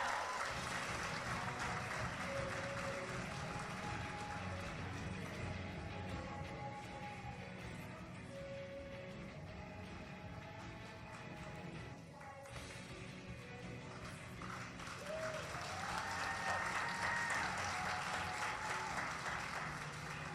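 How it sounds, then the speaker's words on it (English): A graduation audience at Orion Academy applauds the salutatorian's parents, with sustained, fairly distant clapping in a large hall lasting throughout. "A round of applause for the parents."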